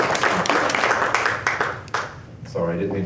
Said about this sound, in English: I didn't mean to cut off your applause there